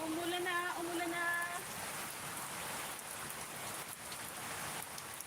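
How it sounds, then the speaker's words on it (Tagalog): Rain falls on a farm as a steady, soft, diffuse patter. A voice speaks briefly near the start, and the wash of rain carries on alone afterward. "Umulan na, umulan na."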